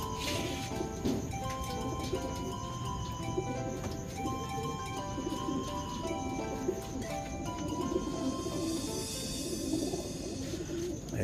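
Pigeons coo softly in a loft during a bird-banding session, with the low calls repeating under steady background noise and occasional rustling and wing movement nearby.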